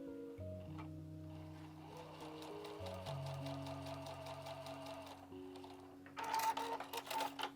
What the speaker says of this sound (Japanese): 布を順番に縫います。